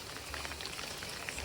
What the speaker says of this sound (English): all of a sudden the rain just picked up